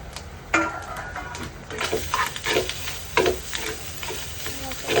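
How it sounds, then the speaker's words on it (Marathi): Grated coconut roasts in a pan while a spatula stirs it, producing repeated scraping strokes over a soft sizzle, close and moderately loud, with the strokes spaced irregularly. "भाजून घ्यायचं थोडंसं, जास्त पण नाही, तर ब्राऊन होऊन घ्यायचं थोडंसं खोबरं."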